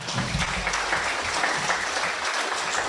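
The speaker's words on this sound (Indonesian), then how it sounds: "silakan tepuk tangan dulu Pak" Audience applause fills a formal launch event at an Indonesian government ministry hall, a steady dense clapping from many people close and loud throughout with no talk over it.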